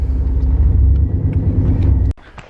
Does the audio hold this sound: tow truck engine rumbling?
yes